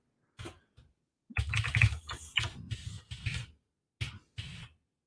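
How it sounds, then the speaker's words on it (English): Keys clatter on a computer keyboard as an email address is typed into a chat box, arriving in short bursts of quick, close taps separated by brief pauses. "which I will type into the chat box here"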